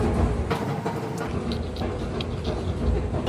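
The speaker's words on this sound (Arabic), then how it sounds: "وصل المترو الجديد وباقي لنا محطة واحدة فقط عشان نوصل القطر الثاني" An underground metro train arrives at a deep station in Kuala Lumpur, giving a continuous rumbling roar with rattling and clattering bursts. It is moderately loud and close throughout.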